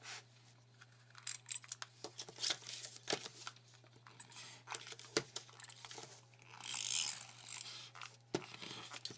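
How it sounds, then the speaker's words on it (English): A handheld adhesive tape runner, used while crafting a sticker storage book, gives faint, close crackling and clicking with light rubbing and a brief louder ripping stretch near the end over a steady low hum. "Get my silly tape runner out."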